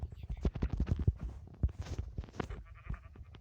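Sheep in a video game give short, bleating calls in quick succession, close and fairly loud, while people talk over them.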